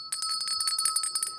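A small bell rings in a rapid run of tinkling strokes, bright and fairly close, at a lunchtime café radio show. No voices.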